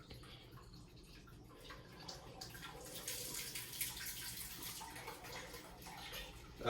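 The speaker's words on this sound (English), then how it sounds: "I'm gonna drain this nice clean wort" Clean beer wort for a Vienna lager draining from the brew kettle into a fermenter, a steady faint rushing and trickling of liquid that swells slightly as the flow continues.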